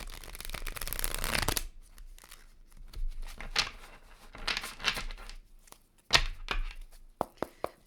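Tarot cards being shuffled by hand: a steady riffle of rustling card noise that stops abruptly, followed by scattered soft slides, taps and flicks of cards being handled at close range.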